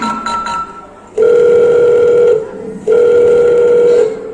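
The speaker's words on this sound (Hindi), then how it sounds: "मैं अभी अपने बेटे को फोन करती हूँ" A telephone handset gives a few quick dialing tones, then a loud steady dial or ringback tone that sounds twice, each lasting about a second with a short gap between them.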